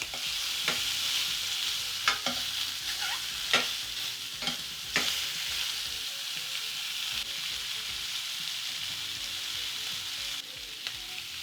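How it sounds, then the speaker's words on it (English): Shrimp sizzle and fry steadily in a hot pan while being turned for prawn masala, with a constant bright hiss broken by several sharp clicks and scrapes of a utensil against the pan. "Once the shrimp has gotten some color, you want to come in and turn them."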